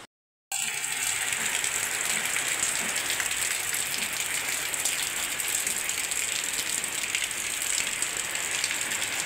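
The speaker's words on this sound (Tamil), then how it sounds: "சூப்பராக மழை பெய்யுது செம்மையாக." Heavy rain pours down in a dense, steady hiss of drops on surfaces after a brief moment of silence, unbroken and fairly close throughout.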